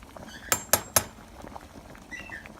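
Noodles being stirred in a pot give three sharp metallic clinks in quick succession, close and fairly loud, followed by faint scraping and soft rattles.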